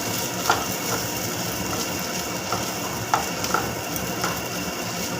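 Potatoes fry in a pan for a mashed potato dish, with a continuous soft sizzle broken by occasional light scraping ticks from stirring.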